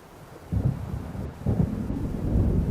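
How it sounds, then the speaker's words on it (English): In the Alan Wake video game, thunder from an approaching storm rolls in as two deep, low rumbles, each building and lingering, over a faint background hiss. "It seems there's a storm coming."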